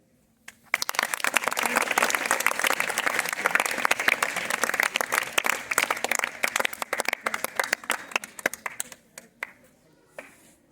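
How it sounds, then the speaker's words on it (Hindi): Students clap in welcome, a dense burst of applause that starts abruptly, holds steady for several seconds, then thins into scattered claps and fades. "स्वागत में इनके तालियां बजा दो।"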